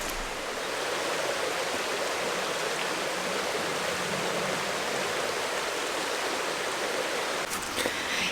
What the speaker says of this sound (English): we've got a lovely, such a beautiful little creek